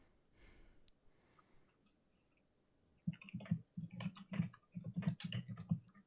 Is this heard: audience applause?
no